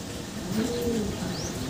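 Racing pigeons arrive home at the loft after a 70 km race from San Rafael, Bulacan to Talavera, Nueva Ecija. Soft, low cooing runs through a brief, faint moment with no talk.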